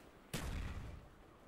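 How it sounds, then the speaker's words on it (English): Faint, distant single muffled gunshot burst from a silenced weapon in the video game Black Ops, a soft low thump with a short decaying tail. "I hear them shooting with their silencer, but I'm not sure where."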